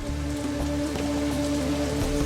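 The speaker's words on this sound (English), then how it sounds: "the wettest place on planet Earth, averaging over 432 inches of rain each year" Heavy monsoon rain pours steadily in the wettest place on Earth, a dense, unbroken hiss of drops striking surfaces close by, with no voices.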